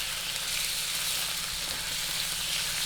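Thinly sliced pork sizzles and fries steadily in a pan, a dense, continuous crackling hiss with no talking.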